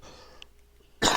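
A smoker's single harsh cough bursts out abruptly at the end after a quiet pause with faint background sounds, loud and close.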